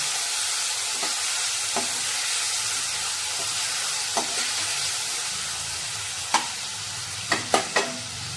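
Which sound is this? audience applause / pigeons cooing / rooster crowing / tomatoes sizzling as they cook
tomatoes sizzling as they cook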